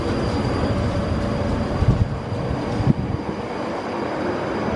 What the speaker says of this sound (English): so we'll just watch my train depart